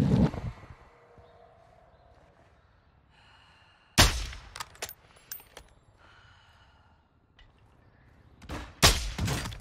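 Sharp bursts of gunfire in Call of Duty DMZ, a few loud cracks with quieter pops between them and near-silent gaps, ending in a final cluster of shots.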